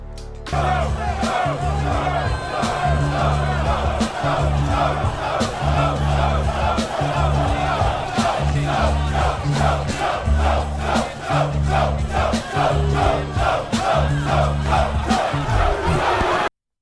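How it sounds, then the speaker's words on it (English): An audience boos a rapper at an 8 Mile-style rap battle: a loud, sustained crowd roar with jeering voices rising and falling across the whole stretch, over a steady pounding hip-hop beat. "the audience is already booing him"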